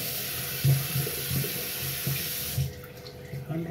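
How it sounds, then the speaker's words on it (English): Water runs steadily from a tap as hands are washed at a sink, a continuous broadband rush with faint bumps and splashes, then cutting off near the end and leaving quieter room noise. "Hand wash."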